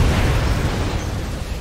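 A dense, roaring video game explosion rumble from X-Men Origins: Wolverine fills the whole moment, loud and continuous with heavy low-end boom.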